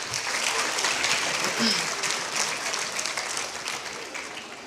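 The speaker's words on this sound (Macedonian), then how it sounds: "Повторно аплауз, сосема заслужен." Sustained applause from a school ceremony audience honoring an award-winning student, steady and dense throughout with a brief voice showing through.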